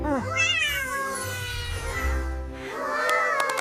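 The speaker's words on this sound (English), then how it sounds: "Cat." A cat meows in a long, drawn-out wail, then a second rising meow, loud and close.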